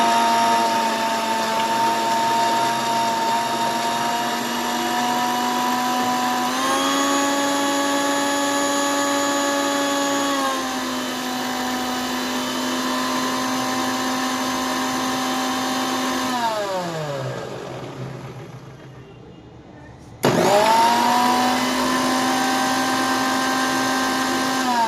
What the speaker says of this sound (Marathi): तर आता आपण मिक्सर लावून घेऊ.